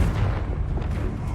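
A Confringo fire spell bursts in Hogwarts Legacy, a dense, booming blast that fills the short moment at steady loudness with a low rumble, no voices over it.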